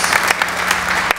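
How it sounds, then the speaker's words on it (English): Applause from an audience at a university Founders Day ceremony, a dense burst of clapping filling the hall for just over a second before cutting off. "That deserves a round of applause."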